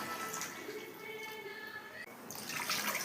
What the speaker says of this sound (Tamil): 2 கப் தண்ணி ஊற்றிக்கலாம்.